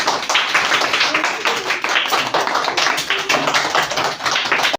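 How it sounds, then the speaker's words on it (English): A class of young schoolchildren claps together during a reading skill test, a dense, steady patter of many small hands that continues for several seconds and stops abruptly. "Clap everyone."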